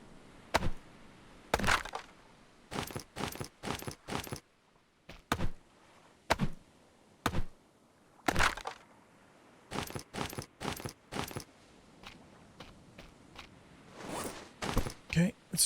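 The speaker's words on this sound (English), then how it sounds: "let's just go ahead and cut these logs up now for the sticks" Logs being chopped into sticks in Stranded Deep: a series of sharp, crisp chopping impacts in uneven bursts, some in quick pairs and triples, with short pauses between, fairly close and moderately loud.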